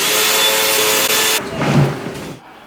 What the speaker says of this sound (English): I got most of the screws out,